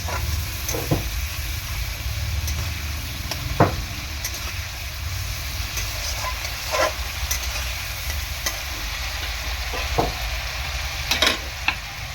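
Spice masala stir-fried with a splash of water in a kadai, giving a steady close sizzle and hiss broken by occasional scrapes and clinks of the spatula against the pan.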